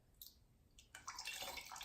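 A marimo moss ball plopped into cold distilled tap water, giving a short liquid splash and dripping, then a steadier watery gurgle close by.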